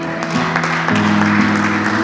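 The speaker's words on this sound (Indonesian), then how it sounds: "Tepuk tangan buat Tuhan." Congregation applauding during a church worship service, a dense steady patter of clapping over sustained organ or keyboard tones, close and fairly loud for about two seconds.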